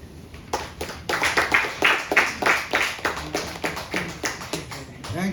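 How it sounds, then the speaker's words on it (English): An audience claps steadily, many hands making a close, fairly loud patter that swells into a rhythmic, pulsing beat before easing slightly toward the end. "You can clap as much as you want with no extra charge."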